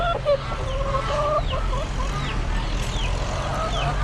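Roosters at an Amish animal auction cluck and call repeatedly over a steady low background hum, several birds overlapping near and far.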